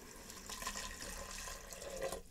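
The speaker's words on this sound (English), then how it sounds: "now what you want to do is you want to pour in the broth" Chicken broth, two cups of it, pours steadily into an Instant Pot, giving a continuous splashing, trickling liquid sound at moderate level with no talk.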